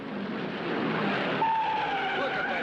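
Race cars skid with screeching tires during a multi-car first-lap crash at the 1966 Indianapolis 500. The screech is loud and continuous for a few seconds, with engine and crowd noise around it.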